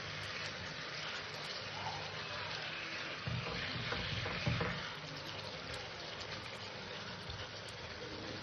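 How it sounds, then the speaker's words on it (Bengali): Katla fish curry simmering and being stirred in a pan, a constant soft sizzle and bubbling with brief louder scraping and clatter from the stirring midway, fairly close. "আবার একটু নাড়াচাড়া দিয়ে দেবো।"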